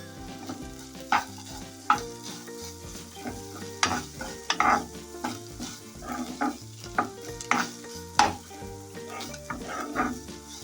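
Grated ginger and onion sizzle in a pan over medium flame while a spoon stirs, clanking and scraping against the metal in frequent sharp hits over a steady frying hiss.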